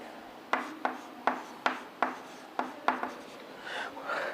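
Pen strokes on a writing surface during a lesson, a run of quick, distinct scratchy marks with short rhythmic attacks, followed by softer continuous scribbling, close and clear.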